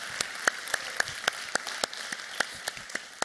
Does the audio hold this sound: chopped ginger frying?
no